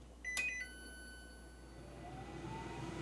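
A Cosori air fryer switches on with a short, bright electronic beep, followed by the rising hum of its fan starting up. The sound is close and fairly quiet.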